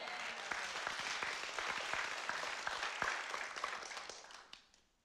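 Crowd clapping, thick and continuous, then tapering off and fading out in the last moment.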